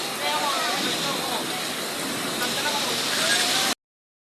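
A sudden heavy rain downpour roars loudly as a dense, continuous hiss of pounding water that stays steady until it cuts off abruptly near the end.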